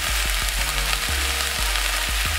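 Garlic sizzling in a hot pan while cooking mutton, a steady loud frying hiss with occasional soft knocks of stirring, no voices.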